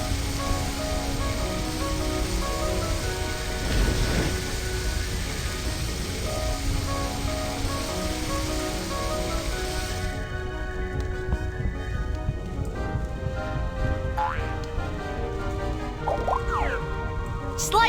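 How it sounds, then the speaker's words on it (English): Water gun spraying onto a fire in a firefighting rescue video game, a steady hissing splash of water over a layered game music backdrop, continuous and moderately loud. "Slide the water gun to put out this terrible fire."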